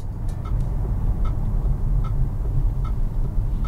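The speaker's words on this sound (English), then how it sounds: "That is the sound of the indicator playing you a beat whenever you indicate to turn left or right." Inside a Jeep Avenger, the turn indicator ticks out a steady, evenly spaced rhythmic pattern of short, bright clicks over the low hum of the car cabin.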